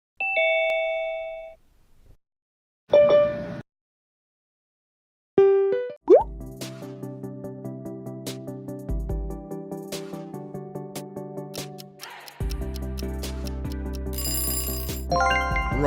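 Zoom app sounds: a few short chime tones and plops separated by silence, then a bright ding leading into a loud, rhythmic electronic music sting with heavy bass pulses and sparkly high accents.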